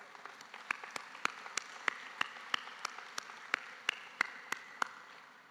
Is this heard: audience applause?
yes